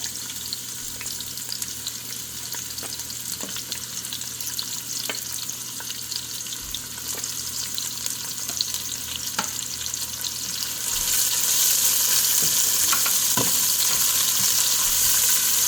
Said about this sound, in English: after heating up the oil for just a little bit, I'll go ahead and add my onions